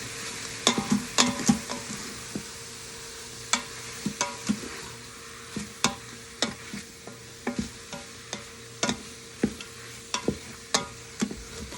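Onion and garlic sautéing in an Instant Pot, a soft background sizzle broken by repeated sharp scraping and tapping stirs in an irregular rhythm, close and clear.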